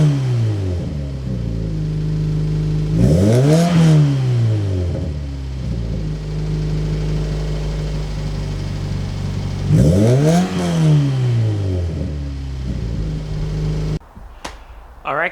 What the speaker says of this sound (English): We have the exhaust in. It's pretty quiet, a little bit quieter than I would like because I'm just used to a full straight pipe.